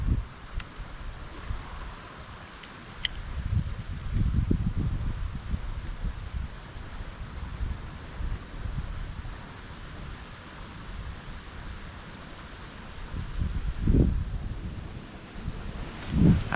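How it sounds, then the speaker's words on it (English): Steady wind blowing by a creek, a continuous rough rushing roar with gusts swelling and fading, buffeting the microphone throughout with no talk. "as you can see, it's pretty windy"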